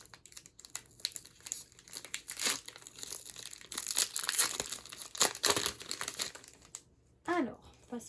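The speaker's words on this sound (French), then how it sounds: "Dernier booster à ouvrir." A Pokémon booster pack wrapper from an Eevee evolutions box is crinkled and torn open in quick, close, uneven bursts of crackling foil, with short pauses between.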